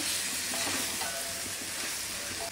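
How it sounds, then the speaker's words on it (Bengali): Chicken pieces sautéing with spices in a pan, a steady close sizzle of frying filling the whole stretch without a break, with no talking. "মশলার সাথে মাংসটা খুব ভালো করে কষিয়ে নিব।"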